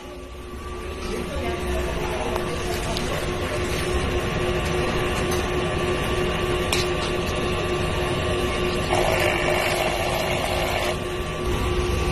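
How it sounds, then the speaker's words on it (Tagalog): A large format printer runs its head cleaning cycle, giving a steady mechanical whir and hum with constant tones and faint clicks, even in loudness throughout. "Ganito naman mag-clean head."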